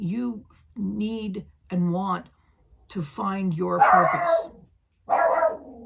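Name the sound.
dog barking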